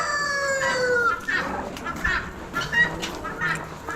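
Chickens, including red hens and buff pullets, call at a bird auction with a few close harmonic, crowing-like cries and clucks over steady background chatter and bustle.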